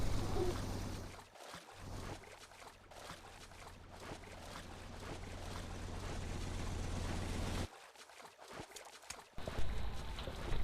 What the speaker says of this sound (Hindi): चलाते हैं बोट और उड़ाते हैं धुआं